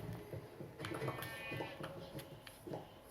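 Several short bleats from sheep in a video game sound over a busy, clattering background, fairly faint and repeated irregularly.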